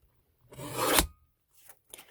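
A strip of card paper being cut on a paper trimmer, one rasping slide lasting about half a second, then two short faint scrapes, close and quiet, with no talking.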